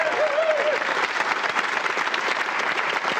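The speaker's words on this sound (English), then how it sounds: "Give them a round of applause." Applause for young Richmond Minis rugby players at a Richmond v Blackheath 150th anniversary event: a steady, dense crowd clapping that stays loud and even throughout, with a voice briefly audible near the start.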